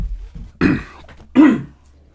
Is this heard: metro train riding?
no